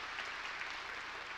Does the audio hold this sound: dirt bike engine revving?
no